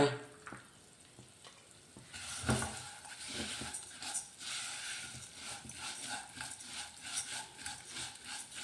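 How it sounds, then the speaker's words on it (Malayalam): Vermicelli roasting in ghee in a pan, a steady soft sizzle with scraping stir strokes that grow busier after the first couple of seconds, close and continuous without talk. "ഇപ്പോൾ ഈ നെയ്യിൽ തന്നെ നമുക്ക് ഒരു കപ്പ് സേമിയ വറുത്തെടുക്കാം"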